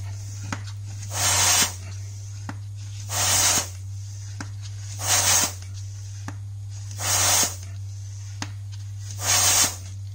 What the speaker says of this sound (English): You're gonna hear a lot of the air leaking out